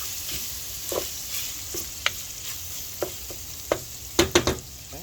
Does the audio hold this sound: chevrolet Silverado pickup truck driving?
no